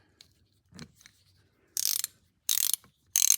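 A Craftsman V series reversible ratchet clicks in three quick bursts of rapid, crisp pawl ticks, preceded by a few soft handling knocks in an otherwise quiet shop.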